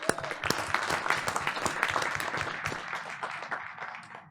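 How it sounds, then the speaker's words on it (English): Audience applause at a board of education meeting, a dense, steady patter of many hands clapping throughout, moderately loud and slowly tapering toward the end. "we want to give her applause anyway."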